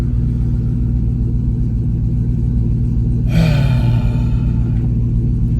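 A 1985 Chevrolet C10 Squarebody pickup driving, its engine a loud steady low rumble with road noise heard from inside the cab, swelling slightly partway through.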